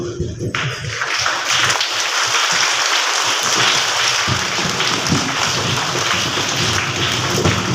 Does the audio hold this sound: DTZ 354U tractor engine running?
no